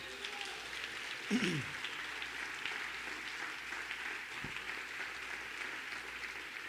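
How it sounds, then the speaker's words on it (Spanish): A church congregation applauds, a steady wash of clapping at moderate distance that stays even throughout, with a voice briefly rising over it. "Alguien tiene que darle un aplauso al Señor por eso."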